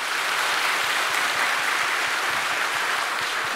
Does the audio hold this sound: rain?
no